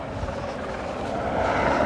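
Helicopter flying over a business park near the airport in Speke, Liverpool, a steady broadband rotor and engine drone that swells slightly louder toward the end, heard alone without talk.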